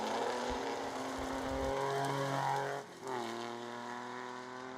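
A rally car driving at speed through a stage of the Scottish Hill Rally 2019, its engine note holding high, dropping briefly at a gear change, then climbing again, heard at a distance with no voices.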